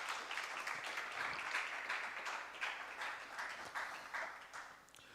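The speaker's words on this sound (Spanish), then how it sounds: "Dele un aplauso si usted quiere ser esa iglesia también." A church congregation at a Spanish-language sermon applauds together. The clapping is soft and distant, a dense, even wash of many hands that swells slightly and then eases over a few seconds.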